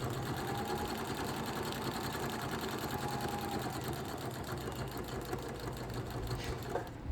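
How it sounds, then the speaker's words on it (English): A sewing machine runs a steady straight stitch through a thrifted skirt, whirring continuously and evenly at close range with no pauses and no talking. "I am sewing a line, a straight stitch, through the top twice, 2 different lines"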